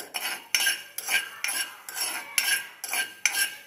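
Fenugreek seeds and red chillies dry roasting in a pan, stirred with a metal spoon: eight steady, evenly spaced scraping strokes across the pan, close and moderately quiet, with no talking.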